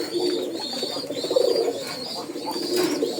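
A pair of pigeons, a red hen and a large cock, coo close up in overlapping throaty rolls that swell and ease over a few seconds, with a faint high whine behind them.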